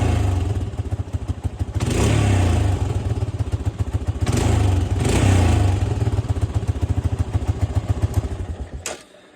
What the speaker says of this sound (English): I've had this thing for about a month without it idling, and it finally idles.